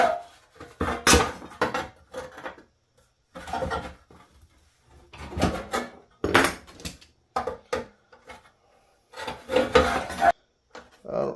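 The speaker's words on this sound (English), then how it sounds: "Handy dandy Jilson shears." Jilson metal shears cutting sheet metal: irregular bursts of snipping and rasping crunches, separated by short pauses, close and fairly loud, with a voice in places.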